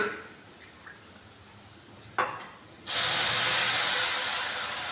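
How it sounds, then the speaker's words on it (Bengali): Water hits a hot pan of spice paste for egg curry, setting off a sudden loud sizzling hiss after a couple of faint clicks, sustained and close before slowly easing. "এগুলো করে একসঙ্গে আমি একটু জল দিয়ে দিচ্ছি।"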